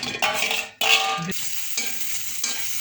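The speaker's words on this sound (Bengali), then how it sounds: "4 কোয়া রসুন, 2টো পেঁয়াজ, 3টা কাঁচামরিচ ভাজা হয়ে গেল" Garlic cloves, onions and green chilies fry in a pan, a short close stretch of sizzling broken by a few stirring scrapes and brief pauses, with no voices.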